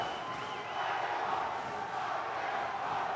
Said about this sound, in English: Listen to the crowd. They are into this too, Van.